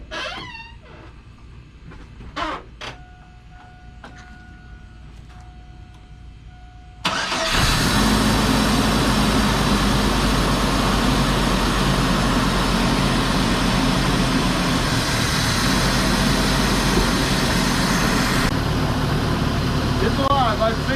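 A Chevrolet S10 with a 2.2 engine and freshly rebuilt cylinder head is quiet at first apart from a few clicks and short tones, then cranks and catches into a loud, steady running idle that holds to the end. A voice speaks over it.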